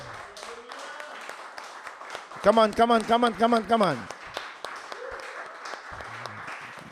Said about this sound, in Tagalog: Isang minutong palakpak para sa Panginoon.